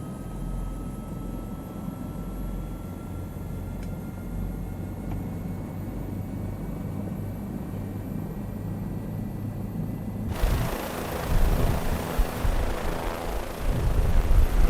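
Bell 407 helicopter turbine engine rolled up toward full power, a steady broadband rumble and whine that swells abruptly louder and rougher near the end, with no talking.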